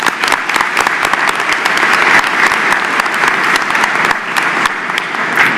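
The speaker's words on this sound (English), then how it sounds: "Let's give them a round of applause." Sustained crowd applause at a West Liberty University spring commencement ceremony, dense and loud clapping from many hands filling the hall without pause.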